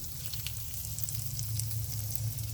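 Venison backstrap and asparagus sizzle on a grill with a steady, close, continuous crackle that holds even throughout, with no talking.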